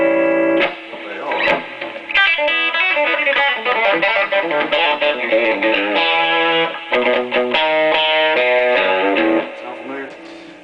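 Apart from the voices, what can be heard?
Telecaster electric guitar through AboveGroundFX pedal, controls at noon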